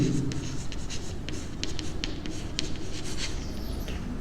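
Pen or chalk writing by hand during a maths lesson, close and steady, with a quick run of short scratchy strokes over a constant low background hum.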